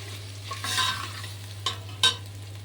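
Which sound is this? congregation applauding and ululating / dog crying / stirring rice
stirring rice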